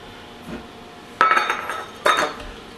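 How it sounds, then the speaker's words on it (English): A spoon stirs sour cream into a bowl of melted chocolate, giving two sharp clinks against the bowl about a second apart, with quiet scraping in between. "Stir that in with the melted chocolate."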